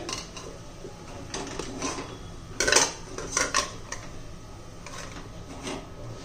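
A pressure cooker set down on a home stove makes a few metallic clanks and clicks, near and moderately loud, with a couple of sharper knocks midway over a quiet kitchen background and no voices.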